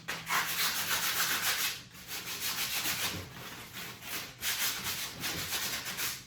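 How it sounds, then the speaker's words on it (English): Sandpaper rasps against wood in long back-and-forth strokes, a steady scratchy rubbing with short pauses between passes. "go ahead and start sanding those edges"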